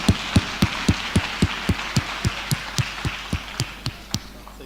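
Rhythmic audience clapping in a hall, steady evenly spaced claps about three per second, carrying on without talk for several seconds.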